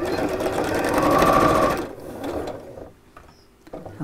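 A sewing machine stitches across fabric with a steady, close mechanical whir for about two seconds, then slows and stops, leaving a quieter pause with a few faint clicks.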